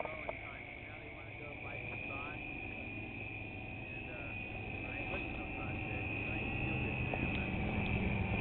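A powered paraglider engine drones steadily in flight, a faint continuous buzzing hum with a sustained tone that rises slightly as power changes, with speech over a radio link.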